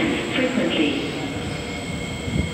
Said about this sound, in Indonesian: Ini MRT yang dari sebelah sudah ada.